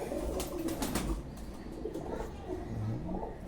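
Restless pigeons held in the hand beat their wings in a quick flurry of flaps near the start, followed by low cooing and soft rustling, close by and without speech.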